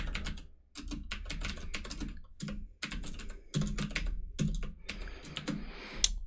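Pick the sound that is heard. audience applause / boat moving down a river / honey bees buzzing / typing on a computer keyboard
typing on a computer keyboard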